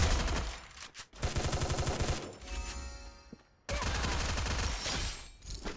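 Rapid automatic gunfire from the video game Free Fire, dense bursts of rattling shots with a brief pause in the middle, then a second sustained burst, with no talk over it.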